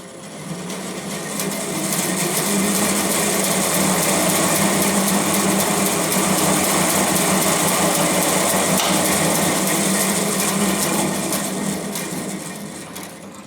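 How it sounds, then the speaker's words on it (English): A dual bandsaw runs in high gear in a machine shop, giving a steady, loud mechanical whir and hum. It fades in, holds constant throughout, then tapers off at the end. "The dual bandsaw has a low and high gear range, and it's in high gear right now."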